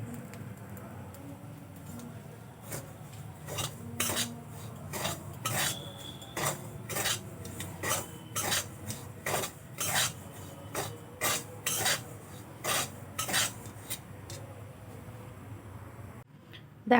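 Semolina being stirred as it dry-roasts in a pan over a low gas flame: close, repeated scraping and clinking strokes at an even pace, quiet and without talk.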